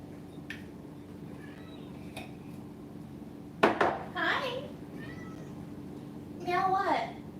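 A pet cat meows a few times in a home kitchen where Sunday cornbread is being made with egg whites and hot honey, the calls brief and fairly close, with a person's voice talking around them.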